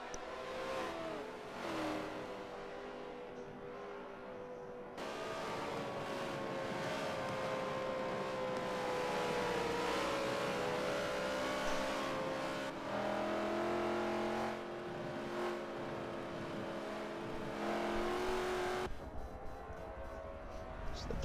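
A pack of NASCAR race cars roars around the track, with engines revving and shifting pitch as the cars pass, the loud racket unbroken throughout.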